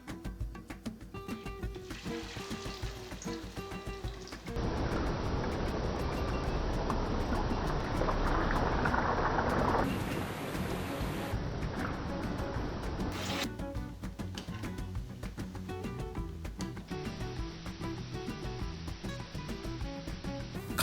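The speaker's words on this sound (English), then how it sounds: "Start the primary cook of the potatoes in hot oil for 4 minutes." Potatoes sizzle in hot oil during the first fry for French fries. A steady broadband hiss swells in the middle and then eases, with soft background music throughout.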